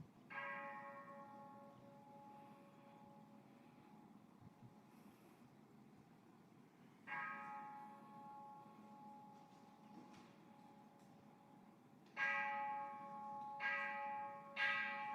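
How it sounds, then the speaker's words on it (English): A Zen temple bell, played as a Narashimono instrument, rings out in quiet, sustained tones. After long gaps of fading resonance, the strikes come closer together toward the end. "hear the bell go suddenly go faster"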